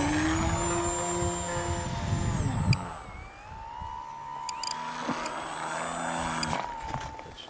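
A Twisted Hobbys 35-inch EPP Crack Turbo Beaver RC plane flies past, its electric motor and propeller whining in a pitch that sweeps down then rises again as it turns, near and steady, with no talk.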